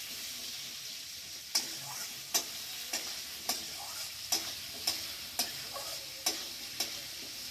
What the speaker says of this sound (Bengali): এবার আলুটা একটু ভাজা হবে।